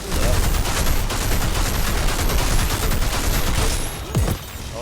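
Gunfire with poison rounds in the video game Outriders: loud, dense, nonstop bursts of shots and impacts, with a brief lull near the end and game effects layered throughout.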